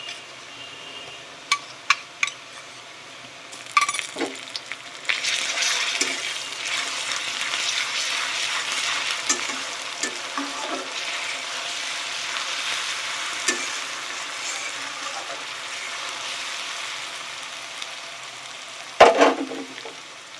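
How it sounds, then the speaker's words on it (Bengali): Garlic paste frying with browned onions in a pan, a sustained sizzle with scraping stirs and a few sharp utensil clinks near the start and end, close and alone. "এবার আমি এর মধ্যে রসুন বাটা দিয়ে দেবো।"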